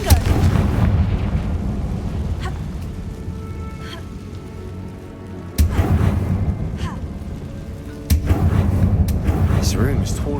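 Confringo blasting curse in Hogwarts Legacy, a video game: booming explosive blasts land over a dense, rumbling game soundtrack, with sharp bursts near 5.5 and 8 seconds.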